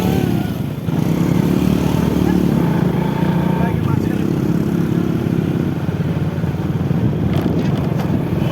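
Motorcycle engines drone steadily on an open road, a loud continuous roar mixed with wind buffeting the microphone, with a voice speaking over it.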